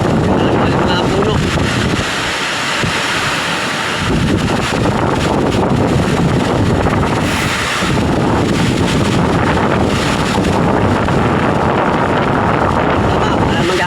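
Strong wind buffets the microphone outdoors near the water by a motorboat, a loud continuous roar with gusts throughout and brief lulls, while voices talk faintly underneath.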